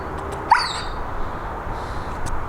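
A dog gives one sharp, close bark followed by softer yips and movement noise, brief and alone without speech.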